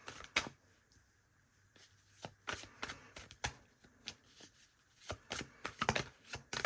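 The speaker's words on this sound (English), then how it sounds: "Oh, we got some cards flipping over in the deck." Tarot cards shuffled by hand at close range, a series of quick crisp riffling bursts with short pauses between them, fairly soft overall.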